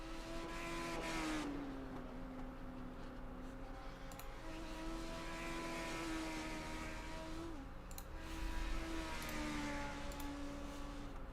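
A race car at the Tsukuba circuit in a sim racing game, engine droning loudly as it climbs through the gears with upshift dips, sustained close-up roar along the track.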